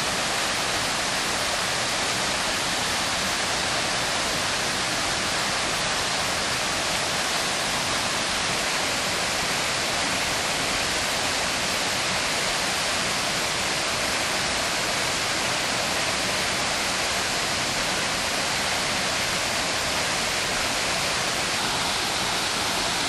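Waterfall in Trinidad and Tobago, a constant loud rushing roar of falling water, steady and unbroken throughout with no voices.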